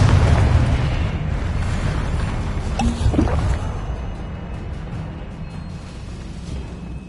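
Confringo blasting spell explosion in a Harry Potter video game, a heavy rumbling boom that starts loud and slowly decays over several seconds with a brief crackling burst midway.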